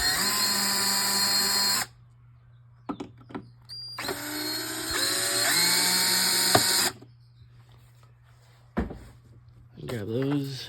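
A power tool whirs in two sustained bursts as it backs out the screws holding the air inlet on an Audi 3.2 engine, each whine rising slightly in pitch, with clicks and a brief final spin-up between them.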